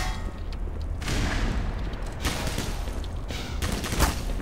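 Rapid machine gun bursts in the game Black Mesa Source, loud dense volleys of gunfire in several waves with short pauses between, filling the whole stretch with no talking.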